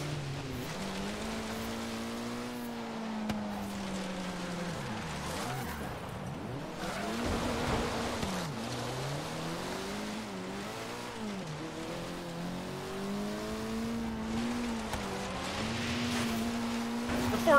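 Ford Focus engine droning and shifting pitch as it drives off road in the racing game Forza Horizon 3, a steady mid-level hum with rises and dips, fairly quiet and alone.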